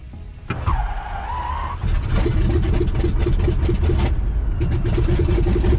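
A light aircraft engine cranking and catching, a brief starter whine followed by the engine firing and settling into a loud, close, steady idle rumble.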